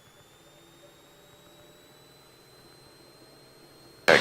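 Engine of a Navion light aircraft at takeoff, heard from inside the cabin as a steady, fairly subdued droning hum with thin whining tones, ending in a sudden loud burst.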